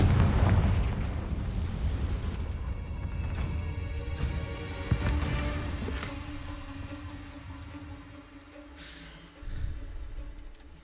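A Confringo fire spell goes off in Hogwarts Legacy with a booming blast and a deep rumble that slowly dies away. Light magical chimes and a few small bursts follow.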